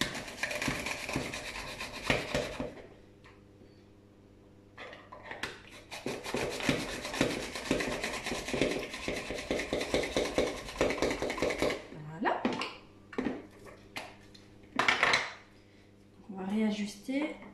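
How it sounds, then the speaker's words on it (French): A Speedy Mondo slicer finely slices apples in a home kitchen, making a steady run of close rasping, scraping strokes with occasional utensil clatter, while a person talks at intervals. "le Speedy Mondo vous émince les pommes beaucoup plus finement que le Mondo Junior"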